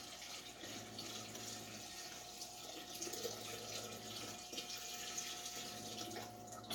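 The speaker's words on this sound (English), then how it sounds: "I just don't want to plop the water in there and stir up everything." Water is poured gently into a betta fish tank, a quiet continuous trickle and splash with faint low hum in the background, no talking.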